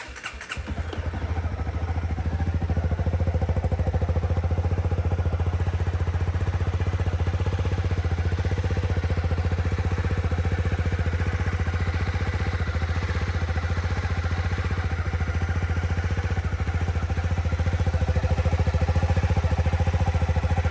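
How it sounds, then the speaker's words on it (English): A Honda CB300R motorcycle's exhaust starts with a short sharp burst, then settles into a steady, even engine note that runs close and loud without a break. The tone stays mild rather than aggressive, and no one speaks over it. "So take a listen to the exhaust."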